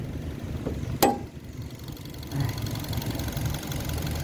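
A 2015 Mazda2 with a 1.5-litre engine, assembled in Vietnam, idles smoothly and steadily with a low, even hum, close by, broken by one sharp click near the start.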